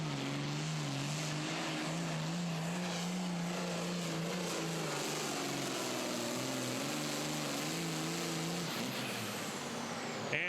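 A Pro Pulling League super farm tractor engine screaming at full power during a pull at Terre Haute, Indiana, in 2017, a loud continuous high-revving roar with wavering pitch that holds steady throughout, then shifts tone near the end.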